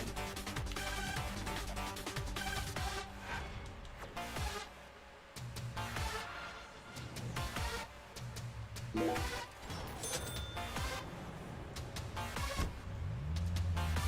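A car engine hums and revs steadily in the video game Deadly Premonition 2, over a busy mix of game music and effects, with occasional crashes and thumps throughout.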